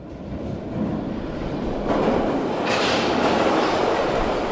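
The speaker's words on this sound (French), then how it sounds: "Entendez-vous? Le métro s'en vient." A subway metro train arriving in a station, its rumble building steadily from a low roar into a loud, close rush of wheels and rail noise with rising hiss, no talking over it.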